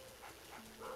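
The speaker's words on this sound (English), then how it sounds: "And he barks, I think, like a total of 4 times or whatever." A cartoon dog barks in the Luigi's Mansion video game, a few short electronic yips in a row, fairly faint within the game's background music.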